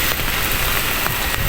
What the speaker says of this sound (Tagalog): So ayan guys. Umuulan.